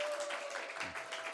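Congregation applauding during a Christmas Day church service, a soft, steady patter of clapping throughout with a faint sustained tone beneath.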